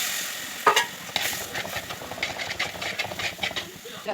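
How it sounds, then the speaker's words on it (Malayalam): Boiling water hits a simmering fenugreek fish curry in the pan, bursting into a sharp hiss and then settling into bubbly, steamy sizzling close by. "തിളച്ച വെള്ളം ഒഴിക്കാം."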